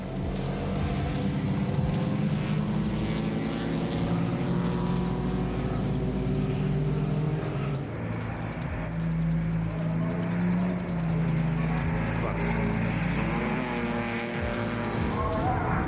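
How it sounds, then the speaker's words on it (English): Racing cars, including a Porsche, roar along a circuit toward the final corner, engines loud and sustained with shifting pitch and some tire noise, under faint commentary. "Stuart Grant follows the Porsche through as they head towards the final corner."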